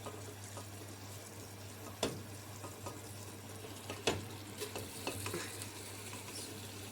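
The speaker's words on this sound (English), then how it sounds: "So I'm going to add this rice slowly into this." Rice is tipped into a pan and stirred for sweet rice: a quiet, low sizzle runs under scraping spoon strokes, with sharper clinks near the two- and four-second marks.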